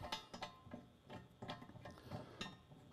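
A bolt threading and tightening into an adapter plate during an AC electric car conversion, giving faint, steady mechanical ratcheting and clicking repeated in an even rhythm.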